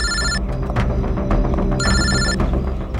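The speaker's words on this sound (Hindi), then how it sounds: "यार सोनल का फोन था" A telephone rings loudly in two electronic bursts, with a low hum and movement underneath and no talking.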